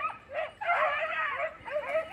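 Red and blue tick beagles out on hare training in Crete bark and yip in short excited bursts, a run of high yelps and whimpering cries that rise and overlap, fairly close and loud, with no speech.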